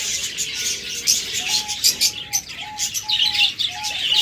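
Pet cockatiels, budgerigars and lovebirds at a bird sale chirp and tweet in a busy overlapping chorus, with repeated short whistled calls and occasional wing flutters, fairly close and lively.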